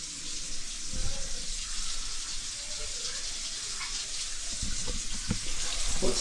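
Hot water runs steadily from a bathroom vanity tap in a constant hissing gush, close by, with faint knocks and clinks underneath.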